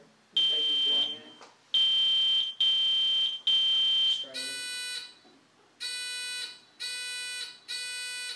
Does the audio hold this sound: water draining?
no